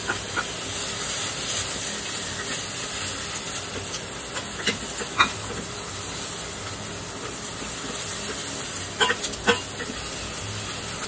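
Garlic sizzling in a pan as the base for spaghetti, a steady, close frying hiss broken by a few sharp pops and crackles.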